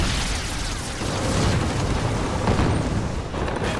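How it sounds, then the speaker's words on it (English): Explosions and shell bursts rumble across a Pacific tank battlefield at night, a dense run of deep booms and crackling blasts that swell and overlap for several seconds with no speech. "Explosions and shell bursts illuminate the battlefield."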